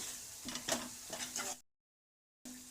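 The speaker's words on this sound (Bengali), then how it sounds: "এবার এটা দিয়ে একটুখানি নেড়ে নেব" A spoon working masala around a frying pan, giving soft scraping and clinking strokes over a low sizzle, with a few distinct stirring pulses before the sound cuts out briefly and then returns.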